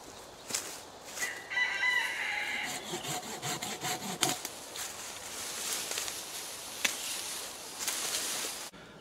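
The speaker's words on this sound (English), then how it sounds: "we got to go find a tree so I can cut it down, little sapling so I can cut it down and debark it." A handsaw cuts through a small tree sapling outdoors in rhythmic rasping strokes, close and steady, while a rooster crows in the background.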